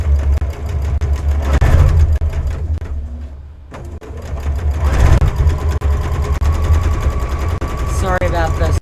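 Home sewing machine motor surging unevenly while stitching place mats, a loud continuous whir that rises and falls, briefly dropping near silence mid-clip before revving again, with a voice talking over it.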